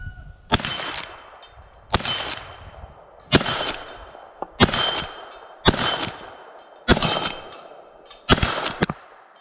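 A Rossi 92 lever-action rifle fires 225 grain Hornady FTX rounds: seven loud, sharp shots spaced at a steady pace about a second and a half apart, each with a brief ringing tail and quiet gaps between.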